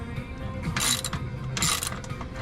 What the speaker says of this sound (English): what I'm gonna do right now is actually remove my transmission mounts, transmission mount bolts.